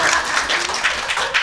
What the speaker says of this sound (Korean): 친구한테 박수